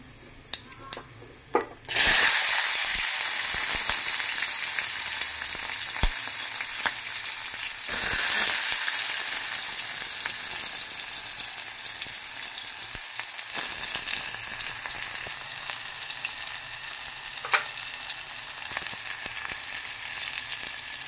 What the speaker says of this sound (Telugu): ఉల్లిపాయ పచ్చిమిరపకాయ వేసుకుందాం